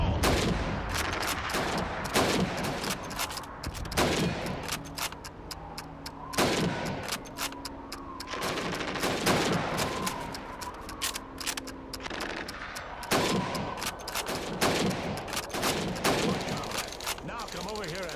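Rifle shots ring out in Call of Duty 2 as helmets are targeted, a rapid string of sharp cracks amid battlefield gunfire, with voices faintly in the mix.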